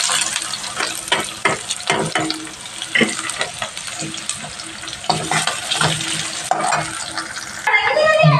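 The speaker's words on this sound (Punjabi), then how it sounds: "ਜਿਹੜਾ ਸਾਡਾ ਤੇਲ ਆ ਗਰਮ ਹੋ ਚੁੱਕਾ ਹੁਣ ਇਹਦੇ ਵਿੱਚ ਆਪਾਂ ਪਿਆਜ਼ ਤੇ ਹਰੀਆਂ ਮਿਰਚਾਂ ਪਾ ਦਿੰਦੇ" Onions and green chillies sizzle loudly in hot oil, a steady crackling fry with repeated stirring clatters throughout, then a brief clink and splash of water near the end.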